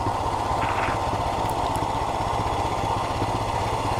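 A Royal Enfield motorcycle rides through a busy city in Kerala, its engine a steady, loud, low thrumming drone throughout, with faint traffic noise and a brief high horn-like tone mixed in.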